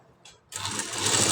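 A sewing machine stitching cloth lining starts up after a short quiet moment and runs with a steady whirring hum that grows slightly louder.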